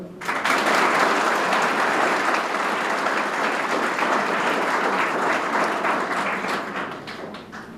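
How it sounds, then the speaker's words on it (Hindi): An audience in a school courtyard breaks into loud, sustained applause at a spiritual speaker's address, dense clapping swelling quickly and holding for several seconds before tapering slightly. "एक बार खुद की ताली बजा दो।"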